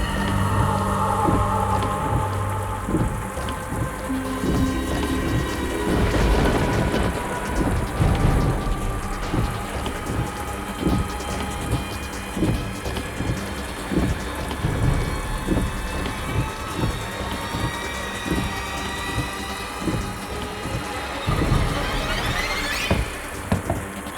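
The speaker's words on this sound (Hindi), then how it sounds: "इतनी तेज बारिश हो रही है" Heavy rain pours steadily throughout, with rolling thunder rumbling in low bursts and a few louder cracks, a dense storm roar that fills the whole scene.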